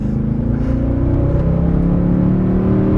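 A Mercedes CLK63 Black Series with a naturally aspirated AMG engine accelerates hard, its loud, steady engine note climbing in pitch over a few seconds from inside the car, with no talking.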